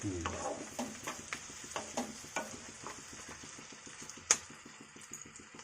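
Fish pieces fry in a pan with onion, capsicum and garlic for Indo-Chinese chilli fish, giving a continuous soft sizzle under regular scraping and clinking stirring strokes, with one sharper knock near the end.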